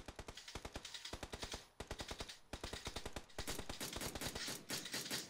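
Sustained automatic gunfire in a shooter video game, long rapid bursts of machine-gun fire with brief pauses, loud and continuous, several weapons overlapping toward the end.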